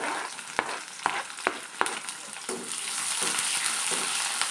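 Onions frying in a pan with curry leaves in a home kitchen, a steady close sizzle with several sharp clicks of a spoon stirring against the pan, no talking.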